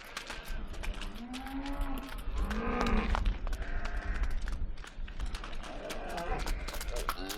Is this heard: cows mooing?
yes